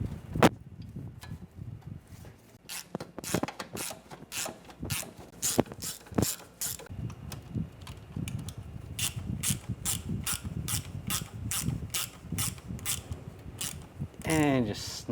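A ratchet tightens bolts on the water pump of a 2009-2013 BMW 328i xDrive 3.0L inline-six, giving long runs of rapid, close, regular clicking with brief pauses between strokes.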